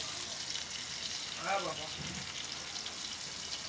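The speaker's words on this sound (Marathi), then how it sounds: "कशी वाटते तेलाची किरकिर तव्यामध्ये" Soft, steady sizzle of pomfret frying in oil on a flat griddle pan, faint and close, with a brief voice in the middle.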